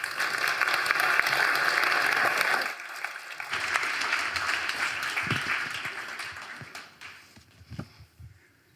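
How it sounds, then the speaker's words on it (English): An audience at a games graduation event applauds in a dense, sustained burst of clapping that thins out and fades to a few scattered claps at the end. "please give a warm round of applause for Daniel Marx"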